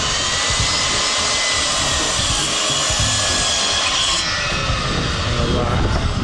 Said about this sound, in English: Young Dobbs is on the chop saw